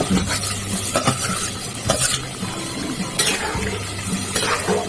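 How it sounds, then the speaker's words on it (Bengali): Paneer goes into a simmering pointed gourd curry, bringing a close bubbling sizzle with spoon scrapes and stirring clatter in uneven bursts, the pan's hiss continuing throughout. "এবারে পনিরগুলো দিয়ে দিচ্ছি"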